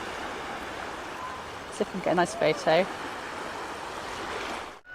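Sea waves wash continuously on the beach at Minehead, a broad steady surf hiss heard from the water, while a person speaks briefly partway through.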